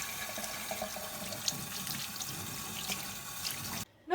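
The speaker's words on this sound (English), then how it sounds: "First we wash all the meat in lukewarm water." Lukewarm tap water runs steadily over pork being washed in a kitchen sink, a soft continuous rush that stops abruptly at the very end.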